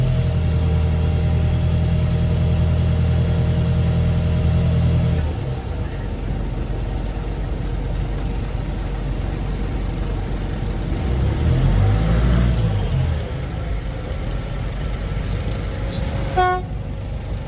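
A boat engine on a busy stretch of river at the Cai Rang floating market in Can Tho, Vietnam, a loud low drone that fades after about five seconds, leaving rumbling traffic, a brief rising whine and a short high horn toot near the end.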